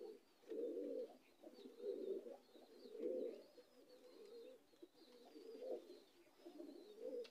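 Pigeons cooing steadily, a continuous soft, throaty warble from several birds close by, rising and falling in waves with faint higher chirps over it and no talking.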